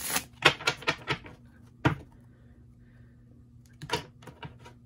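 Cards riffle and snap in a quick run of crisp shuffles, then pause before a few more flicks, close up over a low background hum.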